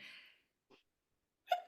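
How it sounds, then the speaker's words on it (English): A single person sneezes sharply near the end of the short stretch, after a soft breathy intake and a brief gasp, with quiet between the sounds. "I'm going to sneeze."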